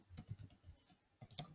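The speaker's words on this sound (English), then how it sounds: "Let's start by typing in the function." A computer keyboard clatters faintly with quick, irregular keystrokes in two short bursts, quiet and close, with no voices.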